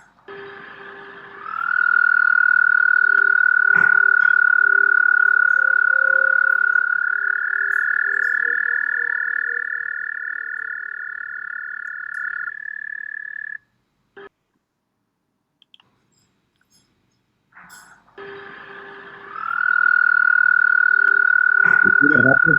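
A frog's call from a played clip: a loud, sustained, steady high-pitched tone that holds for several seconds, drops into near silence, then returns.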